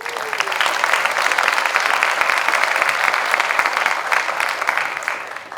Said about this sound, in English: let's give Mary O'Connor a big round of applause